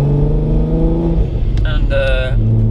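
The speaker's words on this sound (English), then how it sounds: "I think this is the first time ever I've driven a Golf" Supercharged 490 bhp VW Golf engine droning from inside the car while driving, a steady low hum that shifts pitch, with someone talking over it throughout.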